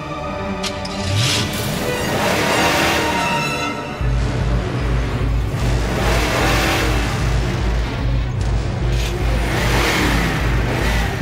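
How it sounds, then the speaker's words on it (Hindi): A car engine starts and revs loudly during a street confrontation, the steady low engine drone rising in pitch and holding under swelling background music. "चल गाड़ी स्टार्ट कर"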